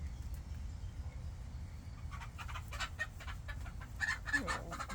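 A rooster on a homestead clucks, grunts and stomps its feet in short bursts over low rumbling background noise, growing louder toward the end.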